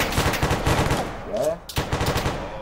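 Rapid automatic gunfire in the military video game Arma 3, loud dense bursts that break off briefly and resume, with a man's short spoken word over the shooting.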